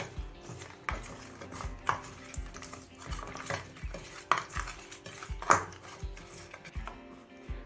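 Hand-mixed salt and turmeric worked into a raw fish head in a bowl, heard as soft wet rubbing with repeated light clinks and taps against the dish, close and quiet, no talking.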